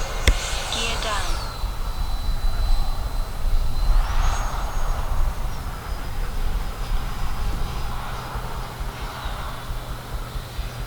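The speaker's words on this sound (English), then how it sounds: "amazing flying jet" An FMS Rafale 80mm electric RC jet whines overhead in the evening, its high ducted-fan tone gliding and shifting in pitch as it passes, under outdoor hiss with some talk nearby.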